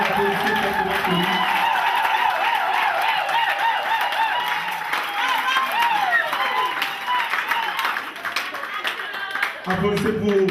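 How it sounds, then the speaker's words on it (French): Applause and clapping from a crowd at a Labour Day celebration, a steady dense wash of hands that carries for several seconds while a voice keeps talking over it through a loudspeaker. "applaudissez pour le papa de tout le monde"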